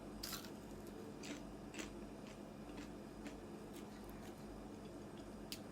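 Crispy fried potatoes are bitten and chewed close up, giving a series of sharp, faint crunches spaced roughly every half second over a quiet background.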